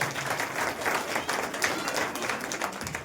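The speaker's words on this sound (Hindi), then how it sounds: "सभी लोग जोर से तालियां बजाएंगे।" Loud, continuous applause from a church congregation, with many hands clapping at once in a steady roar that stays even for the whole stretch.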